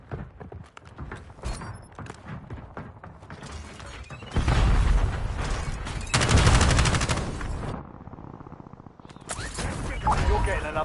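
Gunfire in the Warzone battle royale shooter, bursts of shots under in-game clatter and a loud stretch of rapid firing midway, with further shots near the end while someone talks over parts of it.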